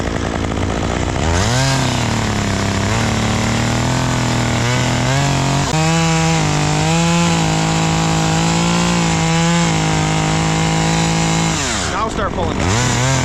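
A Husqvarna or Stihl chainsaw cuts locust tree wood, its engine revving hard and sustained with pitch shifts as it bogs into the cut and rises again, loud and close, then idles down at the end.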